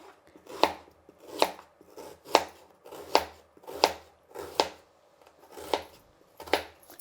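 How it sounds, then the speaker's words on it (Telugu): A knife chops red onion on a board, eight or nine evenly spaced crisp thuds about one every 0.7 seconds, close and clear with no one talking. "ముందుగా ఎర్రగడ్డ కట్ చేసుకుందాం."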